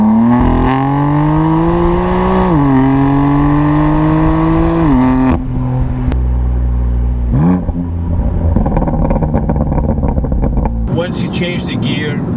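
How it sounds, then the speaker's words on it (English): A BMW M4 LCI Competition engine rises and falls steadily with gear changes, then crackles and pops sharply from the exhaust as the throttle lifts off. The sound is loud and close, with speech partly over it. "Lift off your leg and there's a lot of crackles."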